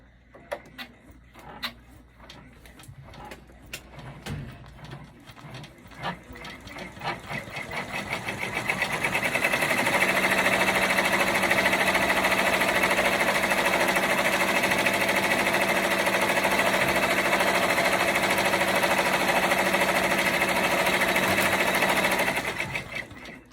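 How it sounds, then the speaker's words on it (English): Embroidery machine sewing an applique placement stitch for an in-the-hoop bag, starting with scattered ticks and clicks, then ramping up into a sustained, even mechanical whir close by that runs steadily to the end. "now we're going to do the placement stitch for the applique portion of the"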